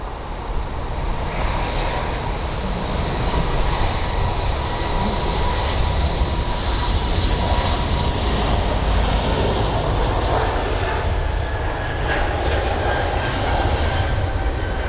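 An aircraft registered HB-JBC departs London Heathrow bound for Geneva, its engines giving a steady, loud, rumbling roar that holds for the whole stretch.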